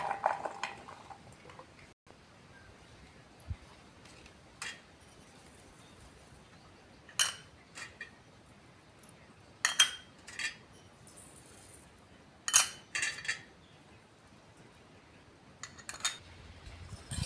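Mango pickle pieces tossed with salt, spice masala and cooled oil in a bowl produce sparse, quiet clinks and scrapes of a spoon against the dish, spaced irregularly over near silence.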